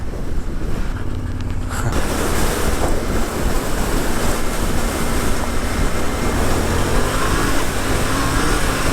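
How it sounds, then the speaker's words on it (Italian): Strong wind buffets the microphone during a ride on a Yamaha Ténéré 700 motorcycle, in a steady, loud roar with continuous low rumbling gusts and a broadband rush throughout. "Che vento ragazzi, madre, spero che mi riusciate a sentire."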